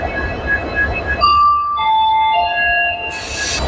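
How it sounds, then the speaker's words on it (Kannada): A Vasco-Da-Gama Express with old ICF coaches, hauled by a WDP-4 diesel locomotive, sounds loud, sustained, high, whistling wheel squeals over a steady rolling rumble, with a brief hiss near the end. "ಹೆಂಗಿದೆ ಸೌಂಡು, ಕೇಳಿಸ್ತಿದ್ಯಾ? ಈಗ ನಮ್ಮ ಟ್ರೈನ್ ಎಳಿತಾರೆ ಲೋಕೋಮೋಟಿವ್ WDP-4."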